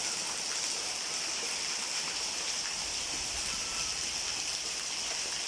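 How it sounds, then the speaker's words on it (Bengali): Steady, dense rain hisses continuously throughout, a broad even wash of water noise with no voices. "এই যে বৃষ্টির অবস্থা"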